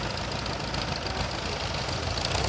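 A 1947 Case VAC tractor engine runs at a tractor show, producing a steady, close, even rumbling drone with a rough, knocking texture and no talk over it.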